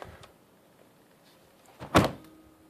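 A door fitted with a new hydraulic strut shuts with a single soft thunk, heard close and alone after a quiet stretch.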